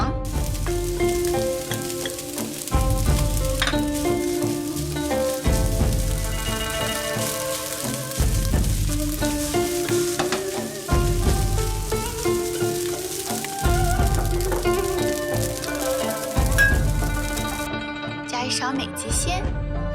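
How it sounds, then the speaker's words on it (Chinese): Rice fried with lobster roe and egg yolk sizzles loudly in a wok, with rhythmic scraping and tossing strokes repeating every few seconds under music and a voice. "米饭倒进来， 一起炒香。"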